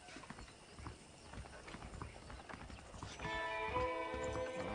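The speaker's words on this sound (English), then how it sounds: "The horses are saddled up over here." In the video game Red Dead Redemption, saddled horses clip-clop along at a steady walking rhythm. The hoofbeats are moderately close, and a faint tonal music bed comes in toward the end.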